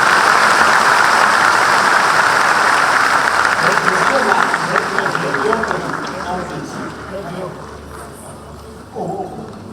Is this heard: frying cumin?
no